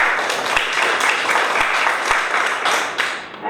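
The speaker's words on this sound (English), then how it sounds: "So big round of applause to KYT as well." An audience claps together in a dense, sustained round of applause at an event, loud and continuous before it thins out toward the end.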